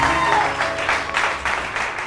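A studio audience on a morning TV show claps for guests in a brief, loud burst of applause that carries on without a break.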